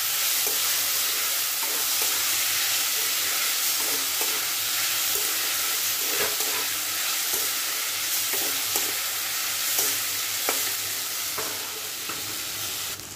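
Moistened flattened rice tossed in a pan with already-fried peanuts gives a steady, close sizzle, broken by repeated scraping and clicking from the stirring spoon; no voices are heard.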